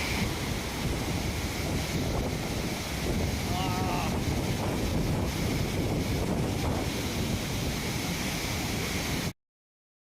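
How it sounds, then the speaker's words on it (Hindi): Rushing waterfall on the Madmaheshwar trek in Uttarakhand during the rainy season, a loud, constant roar of falling water very close by with wind buffeting the microphone and a faint voice beneath. "ये देखिए ये एक और झरना मिल गया।"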